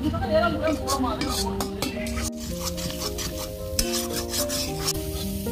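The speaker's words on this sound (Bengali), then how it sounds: "টমেটো কুচি দেওয়ার পর একদম কড়াইতে নাড়তে হবে" Chopped tomatoes are stirred in a kadai, and a spoon scrapes and rubs steadily against the pan. A soft sizzle runs beneath a voice that talks over it.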